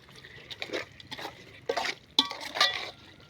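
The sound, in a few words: stirring chicken into masala for biryani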